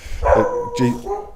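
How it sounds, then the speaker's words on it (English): A dog named Sasha barks twice in quick succession in a room at home, loud and fairly close, with a voice speaking over the barks. "that's my dog barking in the background now"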